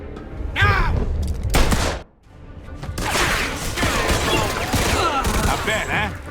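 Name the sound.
gunfire in the video game Mafia cutscene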